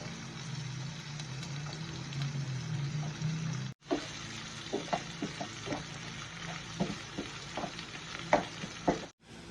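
Ground beef sizzles steadily in a pan, then corn and beans go in and the frying turns into scattered pops and stirring scrapes before it briefly cuts out.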